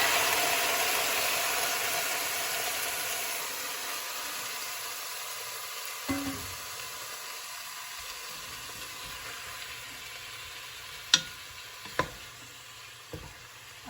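Marinated pork for adobo sizzles and fries in a pan with a steady, close hiss that fades slightly, punctuated by a few sharp clinks and scrapes of a utensil against the pan.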